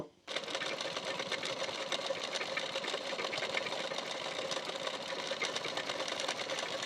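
Electric sewing machine stitching a saree border onto the cuff of a blouse, running as a steady, fast continuous whir at close range after a brief start.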